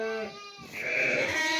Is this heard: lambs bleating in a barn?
yes